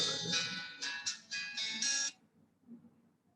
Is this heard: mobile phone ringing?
yes